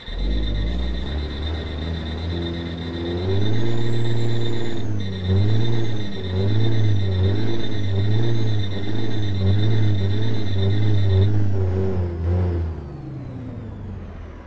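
Truck in American Truck Simulator idling with a steady hum and high whine while the air brakes are pumped repeatedly, the engine note dipping and surging in a regular rhythm, no talk.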